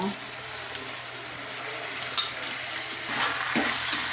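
Jackfruit sukka fries in a pan with a steady close crackling sizzle, a brief scrape of stirring midway and the frying swelling louder toward the end, with no talk.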